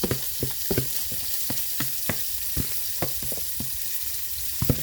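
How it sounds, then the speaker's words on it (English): Salisbury steak patties sizzle in hot oil as they are flipped, a constant crackling fry punctuated by sharp spatula taps and scrapes against the pan at uneven intervals, close and clear with no talk. "Let me flip my patties again."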